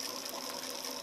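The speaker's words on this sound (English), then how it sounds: "And now I'm like gonna stitch in a curve into this." A sewing machine stitches a curve into a sleeve, giving a steady, close mechanical whir that runs evenly for about a second with no talk.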